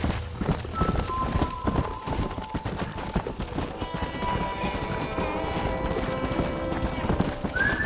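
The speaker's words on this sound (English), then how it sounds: "why don't you keep that stallion as your own" A stallion's hooves clip-clop steadily and close by in the Red Dead Redemption video game, with a neigh or whinny breaking through over a continuous backdrop of game ambience.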